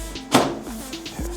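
A plastic turntable part inside a Wolf microwave is pushed and slid back into place: one sharp close clunk, faint scraping, then a softer knock near the end.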